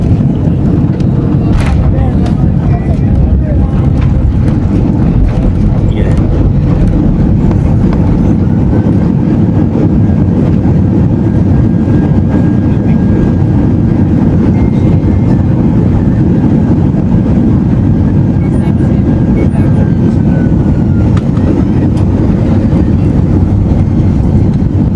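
An Airbus A330 engine roars under reverse thrust during a landing rollout at Lahore, a loud, dense, continuous rush of broadband noise that holds steady for the whole stretch with no clear break.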